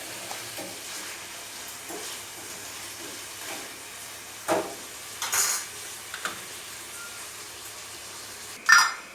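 Onions sizzling in a pan for a rice dish, a soft continuous frying hiss broken by a few clinks and scrapes of a utensil against the pan.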